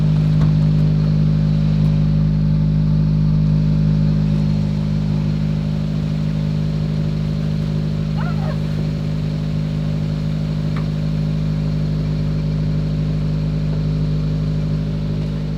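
A Nissan S13's engine runs steadily just after being jump-started, a loud, constant mid-pitched drone close by with no revving swells.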